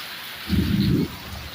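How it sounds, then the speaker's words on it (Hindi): Heavy rain pours down during a monsoon shower, a steady hiss that surges into a louder, deeper rumbling burst for about half a second before settling back to the constant wash. "क्योंकि बारिश है जो तेज़ हो रही है।"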